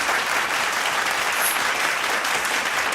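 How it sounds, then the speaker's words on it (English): An audience applauds an award-winning science fiction horror author on a talk show, the clapping loud, dense and steady throughout without a break. "Let's give him a round of applause."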